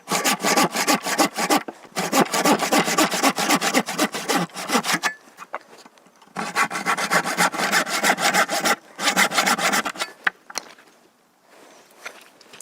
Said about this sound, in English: Now I'll take my handsaw and I'll finish that cut.